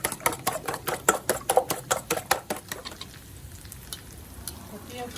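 Eggs are scrambled in a hot pan, a utensil scraping and tapping in a quick regular rhythm of about a dozen strokes over a faint sizzle, then tapering off into quieter sizzling.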